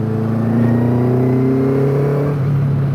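A carbureted Kawasaki ZZ-R1200 motorcycle engine in an MK Indy kit car revs loudly and steadily, its pitch rising smoothly, heard up close with no talking.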